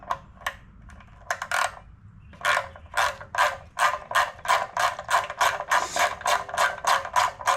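A ratchet wrench fitted with a 12 mm socket, used instead of a deep-well one, clicks on a Honda GX200-engined Dewalt 3400 psi pressure washer, starting with a few scattered strokes and then settling into a fast, steady, close run of ratcheting clicks.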